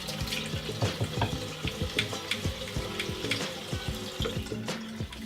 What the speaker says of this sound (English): You wet your toothbrush.